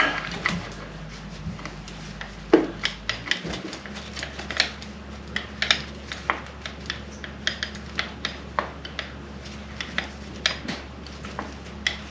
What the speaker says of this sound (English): Just doing that finger tight, tighten up with a big screwdriver.